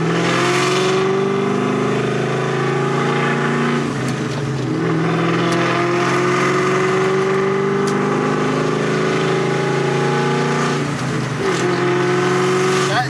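Loud cammed V8 engine with a Borla ATAK exhaust revving and accelerating through gear changes, a rough, lumpy exhaust note rising in pitch with brief dips between shifts.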